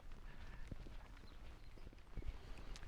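Horses' hooves clip-clopping near old farm stables during a countryside walk, faint scattered hoof knocks and footfalls at a moderate distance under outdoor ambience.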